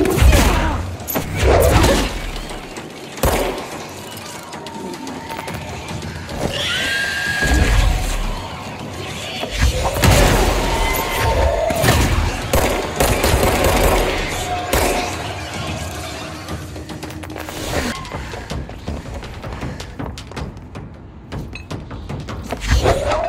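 Gunfire and impacts crash through a combat scene in the video game Control, with dense overlapping bangs, booms and thuds at a loud, chaotic level, a voice speaking now and then underneath.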